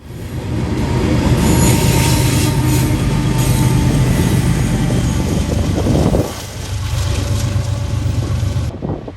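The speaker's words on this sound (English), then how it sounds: "Bringing up the rear was another ES44 DC in full notch 8 throttle" An ES44DC locomotive at full notch 8 throttle pushes a freight train up a hill, its heavy rumble loud and close, with rolling wheel noise and squealing before the sound briefly dips and then builds again.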